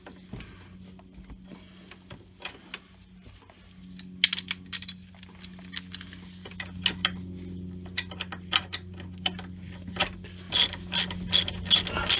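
A socket wrench ratchets a brake bracket bolt on a 2004–2008 Ford F-150, sending out bursts of rapid clicking over a low steady hum, sparse at first and then quicker and louder in several close runs.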